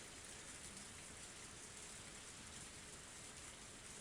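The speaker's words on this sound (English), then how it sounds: "the cold air and the sound of rain didn't change a bit" Steady rain falls as a constant dense hiss, heard as ambience in the visual novel game Higurashi: When They Cry, with no talking.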